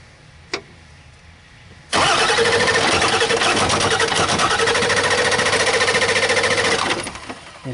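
A Ford 7.3 PowerStroke diesel in an F250/F350 pickup cranks and fires, a loud steady mechanical roar running for about five seconds before fading, preceded by a brief click.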